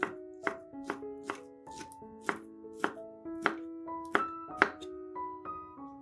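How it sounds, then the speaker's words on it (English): A knife chopping sausage into cubes on a board, about a dozen crisp, evenly spaced thunks ringing close and clear with no voices over them. "50 grams of sausage cut into cubes"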